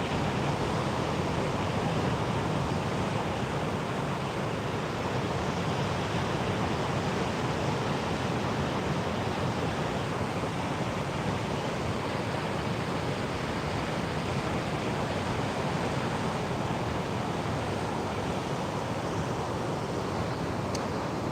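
Stormy sea surf pounds Sofia beach in Anapa, a steady, loud roar of breaking waves and wash with wind noise and no voices.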